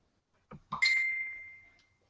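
A phone chimes with a chat notification, two soft taps followed by a bright ringing ding that sustains and fades over about a second, close and clear with no speech.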